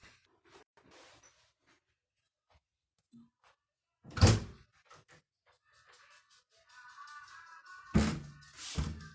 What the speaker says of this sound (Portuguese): Vim abrir a porta.